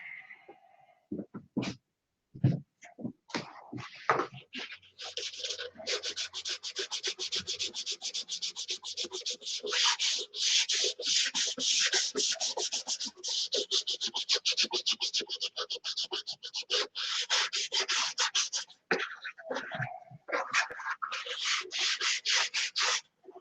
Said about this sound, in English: This has been an all-day sanding project so far today.